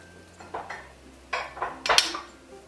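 A lid is set onto a pot of pozole verde, producing a few close metallic clinks and a final ringing clatter as it settles.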